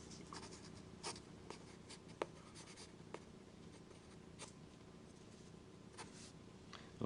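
Pencil sketching a sycamore tree on paper with a light grip, giving soft, faint scratchy strokes in short, irregular bursts with a few sharper marks.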